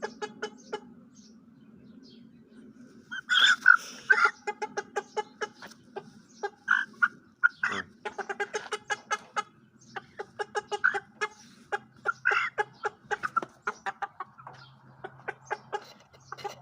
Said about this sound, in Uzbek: bu 4-chi jo'jamiz.